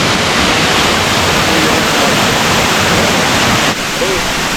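Lovers Leap waterfall near Nuwara Eliya roars as a loud, steady broadband rush of falling water, constant throughout with no pauses, close and dominant.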